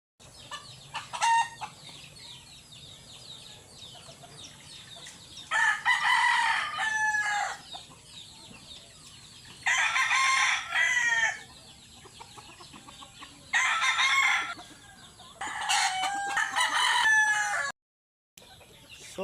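Several loud rooster crows ring out in bursts of a few seconds each, with softer clucking and chicken calls in the gaps between them.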